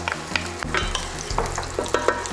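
Onion hits hot bacon fat and fries with a loud, close sizzle, while a spoon scrapes and taps the pan several times in an uneven rhythm; no one speaks.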